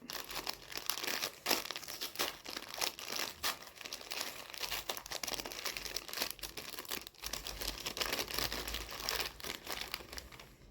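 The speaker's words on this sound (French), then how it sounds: "je peux quand même ouvrir mon calendrier de l'Avent avec vous" Paper crinkles and tears continuously as an advent calendar door is opened, the rustling close and fairly quiet with no talking.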